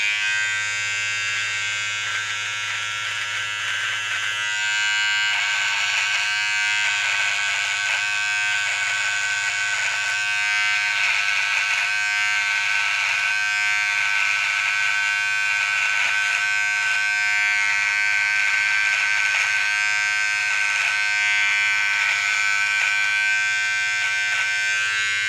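A Wahl electric beard trimmer buzzes steadily and close up as it shaves down a beard. The high-pitched motor hum runs without a break, and its tone shifts slightly as the blade moves through the hair. No one speaks.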